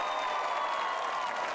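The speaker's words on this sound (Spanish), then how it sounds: "un aplauso para Hechicera" A studio audience on the Mexican masked singing show Quien es la Mascara applauds a contestant, a brief, steady burst of clapping and cheering.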